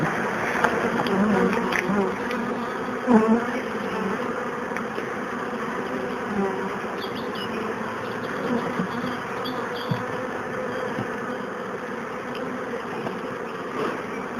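Dense, steady buzzing of many honeybees swarming around an open hive during a dandelion-honey harvest at an apiary, the drone continuous and close with faint handling noises.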